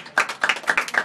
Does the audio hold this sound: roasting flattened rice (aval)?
no